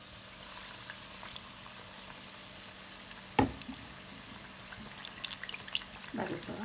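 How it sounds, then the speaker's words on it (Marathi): Batata vada slipping into hot oil, a sharp splash followed by a soft bubbling fry, then scattered crackles and sizzles building near the end over a quiet background hum. "आणि आता ते तेलात सोडायचे."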